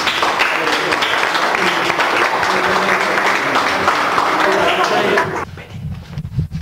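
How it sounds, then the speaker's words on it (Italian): Loud, sustained applause from a large audience fills the space steadily for over five seconds, then breaks off abruptly into quieter crowd murmur and scattered noise. "Un applauso."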